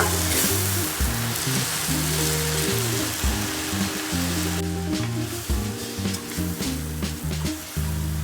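Spice powders for mushroom biryani fry in hot oil with a dense, close sizzle, interrupted by repeated stirring scrapes and clicks against the pan.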